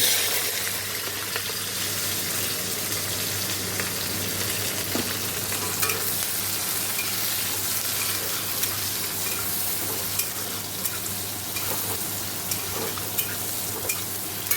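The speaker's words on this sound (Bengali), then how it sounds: "দেখো শুকনো লঙ্কাটা দিয়ে দিলাম যেখানে পেঁয়াজ টমেটো লঙ্কা আছে দিয়ে দেবো" Dried red chilies frying in oil with onion and tomato give a steady, dense sizzle that runs throughout, with faint scrapes and clicks of stirring and no voices.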